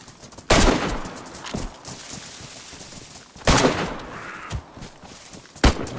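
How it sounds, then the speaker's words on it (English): Gunfire in the survival game DayZ during a base raid: three sharp, loud shots spaced a few seconds apart, each with a short echoing tail, and quieter thuds between them. "we're shooting"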